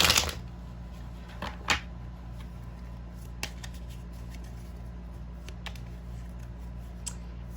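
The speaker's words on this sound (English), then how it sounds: "I'm going to pull some other cards." Tarot cards being pulled and shuffled at close range, giving a few sharp riffling bursts and light flicks over a quiet steady room hum, with no talking.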